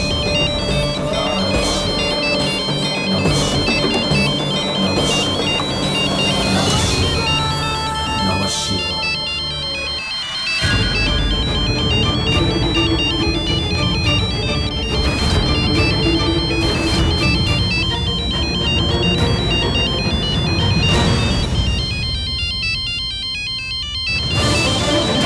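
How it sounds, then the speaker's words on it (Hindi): A phone ringtone plays continuously with a melodic electronic tone, fairly loud, with a brief dip partway through before resuming. "ये तो रूपा जी का फोन है"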